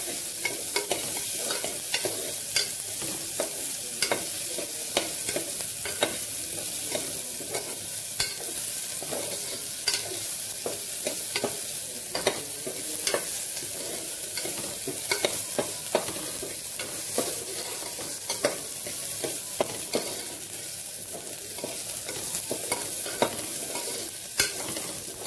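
Onions stir-fried in ghee for porridge khichdi: a soft continuous sizzle broken by frequent sharp spoon scrapes and taps against the pan, repeating throughout.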